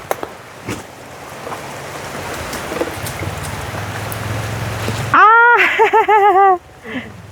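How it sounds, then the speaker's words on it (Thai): Rain falls steadily as a broad, even hiss through most of the stretch, then gives way near the end to a loud nearby voice or animal call with rising, wavering tones before fading back. "แค่ฝนมา"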